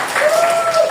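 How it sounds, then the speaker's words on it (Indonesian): Classmates clap for a student in a school classroom, a brief, moderately loud patter of hands with a tonal sound ringing through it. "Iya, tepuk tangan."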